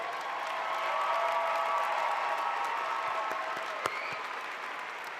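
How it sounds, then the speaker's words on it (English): Commencement audience applause at Clovis Community College, a broad, sustained wash of clapping from a large crowd heard at some distance, steady throughout with faint cheering and tones layered in. "Please join me in a round of applause for everyone who helped make the ceremony possible"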